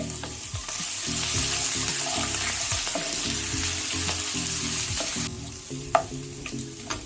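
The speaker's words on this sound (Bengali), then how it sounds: "এবারে গ্যাসটাকে আমি লো করে দিয়েছি, দিয়ে আদা রসুনটা ভাজবো, নাহলে পুড়ে যাবে" Ginger and garlic fry in a pan over low heat, giving a steady close sizzle with stirring scrapes, and a sharp clink near the end, alone without talk.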